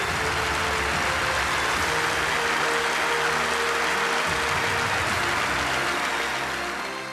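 Thunderous, sustained applause fills a plenary meeting hall of the party central committee, a dense, steady roar of many hands that holds for several seconds and fades slightly at the end, with no talking.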